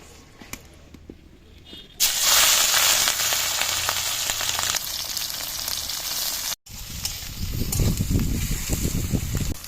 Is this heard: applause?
no